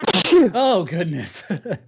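A sharp sneeze bursts out at the start during a casual fantasy football podcast, followed at once by close speech.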